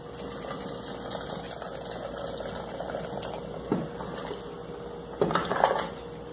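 Water is poured into a pot of beer-seasoned meat on the stove, a steady rushing splash with a low hiss, close and moderately loud, broken by a couple of brief clattering knocks.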